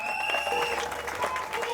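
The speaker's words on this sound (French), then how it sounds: "Sous vos acclamations, s'il vous plaît" Applause and cheering at a customary wedding ceremony, fairly quiet and distant, with clapping bursts under a steady tonal hum.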